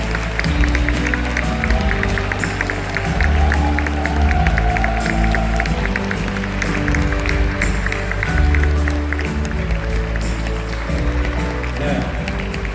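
An audience at the opening-eve ceremony of the Bucheon International Fantastic Film Festival applauds loudly and continuously to welcome actor Lee Byung-hun onto the stage. The clapping is sustained and crowd-wide, with music playing beneath it.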